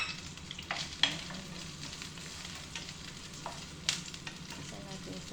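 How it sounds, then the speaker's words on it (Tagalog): Vegetables sautéing with onion in a hot pan, a steady close sizzle and frying crackle with a few scraping stir strokes and clinks of a utensil, no voices. "Igisa ko na lang yung aking gulay sa sibuyas."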